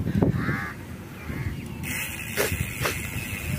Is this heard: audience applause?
no